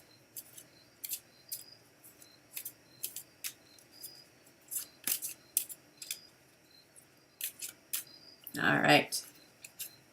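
A deck of cards is riffled by hand. Quick, crisp flutters repeat irregularly at close range and quiet volume, and a short louder burst comes near the end. A voice speaks briefly.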